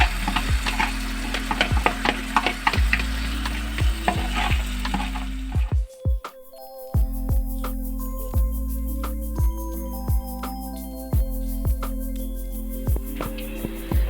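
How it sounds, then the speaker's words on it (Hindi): Masala stirred and fried in a frying pan over a slow flame, with steady sizzling and repeated scraping strokes of a spatula, close and continuous with no talk. "मैं उसी फ्राई पैन में इस मसाले को डालूंगी और इसको अच्छे से फ्राई करूंगी।"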